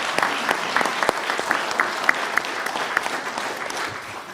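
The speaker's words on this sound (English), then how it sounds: "If we could clap for them as well." A council meeting audience applauds continuously for several seconds, a dense patter of many hands clapping at moderate loudness.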